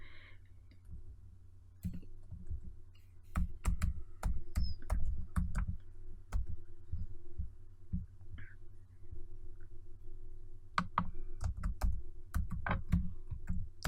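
Computer keyboard typing while entering code: quiet, crisp key clicks come in irregular bursts with short pauses between them, close and alone.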